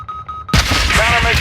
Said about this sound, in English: Missile lock! Missile lock!